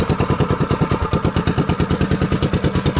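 A Monster Moto minibike with a Stage 1 kit fitted runs after a pull start, giving a loud close single-cylinder putter with rapid, even firing pulses throughout.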